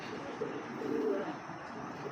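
Racing pigeon cooing softly at close range, a low murmuring coo over faint background hum, with no voices.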